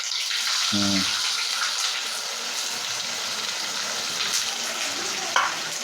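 Onions and fennel seeds fry in oil for a Madurai-style tripe curry, a steady close sizzle with a brief hum near the start and a few light clinks of stirring, with no talk.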